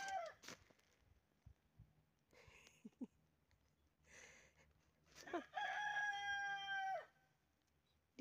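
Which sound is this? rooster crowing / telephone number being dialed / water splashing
rooster crowing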